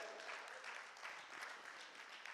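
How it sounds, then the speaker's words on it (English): Congregation clapping hands during a church service, a faint, steady wash of applause from a crowd heard at a distance throughout. "can you clap your hands for real,"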